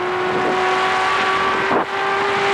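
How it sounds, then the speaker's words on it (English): A loud, steady engine drone with a high whine heard onboard John French's race car at the 1982 Bathurst race, the pitch holding nearly constant with a brief dip. "we're in John French's car now"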